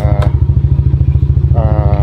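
A Yamaha Aerox V2 scooter idles loudly and steadily close by as it is brought indoors into an office, its engine pulsing in a rapid even rhythm with a brief clatter near the start.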